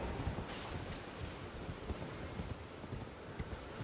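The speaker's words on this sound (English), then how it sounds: "Would you like to meet my horse's hooves?" Rhythmic clip-clop of horse hooves galloping across ground in the video game Elden Ring, steady repeated beats with a light wind-like hiss behind them and no talking.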